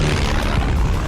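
German World War II planes droning overhead in a film, a brief, loud, steady propeller-engine roar with no break.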